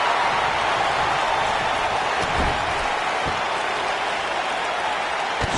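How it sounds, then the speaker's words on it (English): A dense arena crowd at a wrestling pay-per-view in WWE 2K19 roars and cheers continuously, a broad wash of noise with a few thumping impacts underneath. "I don't remember the last time I heard a more passionate crowd than the one we have here tonight."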